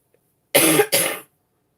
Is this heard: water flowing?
no